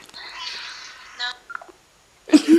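Telephone keypad tones sound in a short sequence of electronic beeps, followed by a brief voicemail beep before a loud burst at the end; close and clear.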